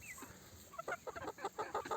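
A native-breed rooster clucks in a quick series of short, sharp calls, fairly close but soft against a quiet background.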